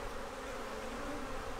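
Honey bees in a hive with laying workers and no queen keep up a steady, dense buzz with no pauses and no voices.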